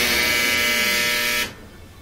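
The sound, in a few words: Whirlpool dryer buzzing, running labored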